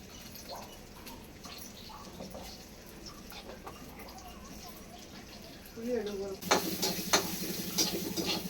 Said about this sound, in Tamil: வெங்காயம் போட்டுக்கலாம் சோம்பு போட்டுக்கலாம்